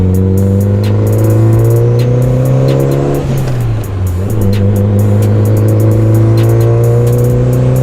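A loud turbocharged Mitsubishi Evo 8 engine drones and revs steadily, its pitch dipping briefly as gears shift before climbing again under continuous acceleration into boost.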